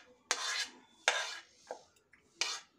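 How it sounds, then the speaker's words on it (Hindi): Soaked semolina batter being mixed with peas, potato and carrot for suji chilla, three or four short scraping, squelching strokes of a spoon against a bowl with pauses between them, close and moderately loud, with no talking. "अब इसमें हम सब कुछ मिक्स कर लेंगे, मटर, आलू,"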